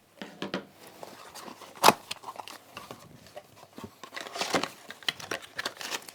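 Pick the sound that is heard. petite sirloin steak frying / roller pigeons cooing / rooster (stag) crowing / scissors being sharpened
scissors being sharpened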